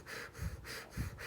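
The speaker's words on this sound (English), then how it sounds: "So that would be deep, fast breathing." Deep, rapid breaths for a spirometry maximum voluntary ventilation test, each in-and-out cycle forceful and close, repeating at a quick, steady panting rhythm with no talk.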